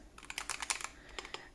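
Typing on an NJ98-CP 96% Hall effect keyboard with magnetic switches and a brass plate: a quick run of crisp, close keystrokes, then a short pause and a few more presses, heard alone.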